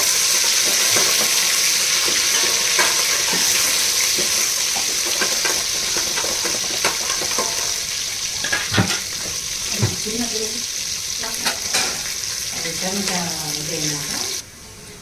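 Onion pieces fry in a pan for a soya chunks biryani, a steady sizzling hiss broken by spatula stirs and clinks, with faint talking underneath before the sound cuts off at the end.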